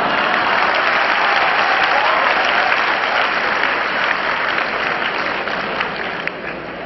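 Sustained, fairly loud applause from a student audience in a university hall, continuous dense clapping that thins slightly toward the end.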